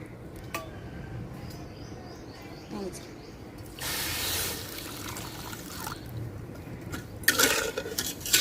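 Water is poured from a bowl into a wok holding sugar, giving two short splashing gushes over quiet background clatter and kitchen noise.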